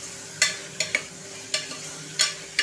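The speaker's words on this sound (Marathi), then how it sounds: "आपण भोपळा टाकला, भोपळा छान असा परतायचा आहे" Sharp scraping stirs of bottle gourd (lauki) being sautéed in a pan for dal, a spatula clattering against the metal about every half second over a faint sizzle.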